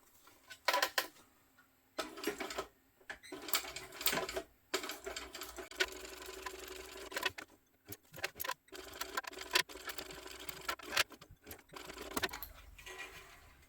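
A domestic sewing machine stitches around a fabric crossbody sling bag in repeated close, rapid bursts, with brief pauses and sharp clicks between runs.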